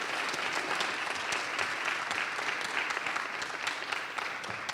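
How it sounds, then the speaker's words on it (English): A panel-discussion audience gives a sustained round of applause, dense steady clapping from many hands filling the room with no voices over it. "Give him a big round of applause."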